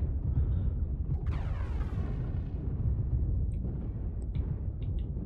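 Artillery strike explosions in a mech video game: a continuous heavy rumbling roar with a whistling descending sweep and a few faint pops and crackles over the top, steady and loud throughout.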